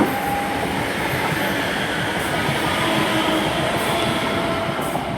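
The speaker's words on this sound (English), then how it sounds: "Meanwhile, departing out the 385s, 385119." ScotRail Class 385 electric train departing Haymarket station, a loud steady rumble of wheels on rails with a faint high squeal running through it.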